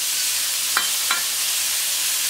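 Pork filet mignon frying in a pan, a steady bright sizzle throughout with two brief scraping stirs near the start.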